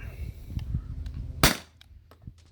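A T4E HDP50 CO2 pistol fires a single sharp close shot that decays quickly, preceded by faint handling noise, no talk.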